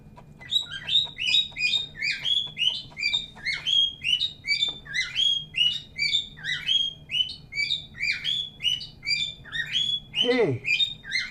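A pet bird chirps rapidly and steadily at close range, its bright tweets repeating in quick bursts throughout, with a brief lower voice-like sweep near the end.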